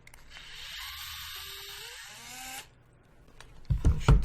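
Handheld power driver spinning a screw into nuts on a PR Racing Type-R EVO RC buggy kit, a high whirring buzz that runs for about two and a half seconds and then stops, followed by a few handling clatters.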